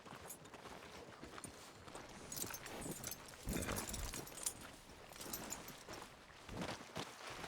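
Horse hooves walking with a soft clip-clop in the video game Red Dead Redemption 2, moderately close, with a louder burst of movement midway and other game sounds in the background.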